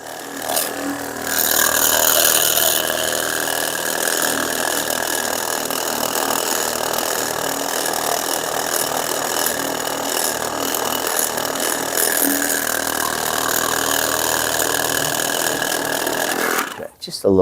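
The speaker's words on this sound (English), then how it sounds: "I'm going to do a little bit more with the massager." Electric massager running steadily on a person's shoulder during a chiropractic-style session, a continuous motorized buzz holding level throughout, with no speech over it, ending abruptly near the end.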